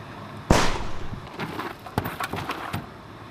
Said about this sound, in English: The fucking gun fired.